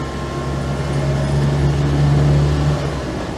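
The small engine of an Autobianchi Bianchina van runs with a steady low drone and rumble, loud and close from inside the cabin, with no talking.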